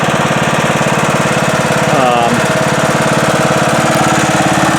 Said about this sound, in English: I've started to do a little mowing, and it's working great